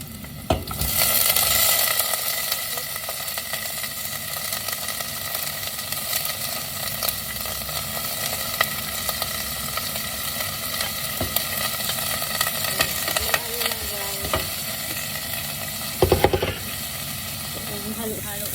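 Garlic and onion sizzle and hiss steadily in a hot pan for chicken afritada, with scraping stirs and occasional louder clatters throughout.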